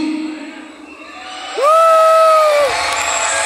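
At a Hot Wheels Monster Trucks Live Glow Party arena show, a quieter murmur with some talk suddenly bursts into a loud, sustained roar of cheering and shrieking children, then settles into a steady crowd din.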